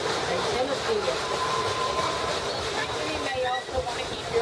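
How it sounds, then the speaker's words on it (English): Steam locomotive 192 Katie hauls the Dollywood Express uphill on a mountain grade, giving a steady rumbling, hissing drone with rhythmic chuffing beneath, while a voice talks over it. "listen to the engine as she climbs up the mountain"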